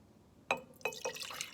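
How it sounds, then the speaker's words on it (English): Water poured into a glass jar, with a few sharp splashing drips and clinks followed by a steady, close trickle of filling liquid. "you're going to fill your glass jar"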